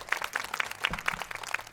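Applause for Saint Augustine during a Catholic teaching program: a faint, quick run of roughly even hand claps, about four per second, heard alone and fairly distant.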